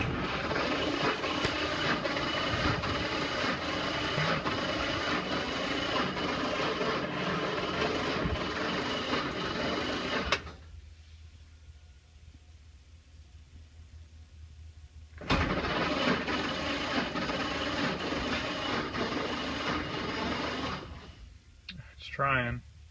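A 1931 Ford Model A engine cranks on a weak battery in two long bursts of loud droning, with a quiet pause between them and a faltering, uneven attempt near the end.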